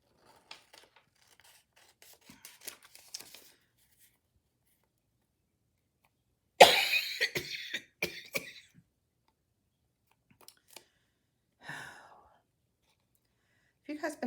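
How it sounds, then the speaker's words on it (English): A person coughing and clearing their throat near the microphone, with a sharp burst in the middle followed by a few smaller coughs and rustles, amid long quiet gaps. "I just keep coughing on you, and I don't mean to."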